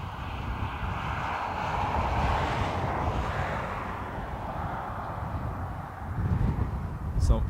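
A Loganair airliner takes off from runway 28 right at Dublin Airport, a broad, distant roaring rumble that swells and then eases, with wind buffeting the microphone and voices talking nearby.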